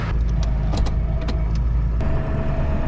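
An old equipment truck's engine idles roughly and lopes unevenly, a loud low rumble close by with a few sharp knocks and clatters over it and no talking.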